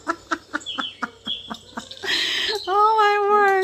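Birdsong played from a television, with a run of short repeated chirps, a burst of rushing noise, then a clear whistled call with rising harmonics, fairly close and at moderate level.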